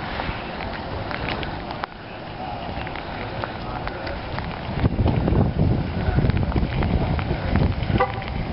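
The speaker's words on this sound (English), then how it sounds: "Rain's starting to pick up though." Rain picking up during a storm in Grand Island, Nebraska, a steady hiss and patter that grows louder and denser partway through, with some wind buffeting the microphone and a person talking briefly.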